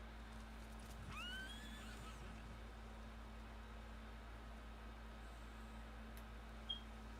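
In the video game Ghost of Tsushima, a single samurai horse neigh rises and falls near the start, then steady low hum and faint background noise continue with a small click near the end.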